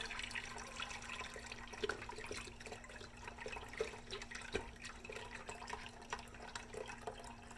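Liquid poured from a squeezed carton into an Instant Pot, a faint, steady watery trickle with small splashes running throughout and no talk.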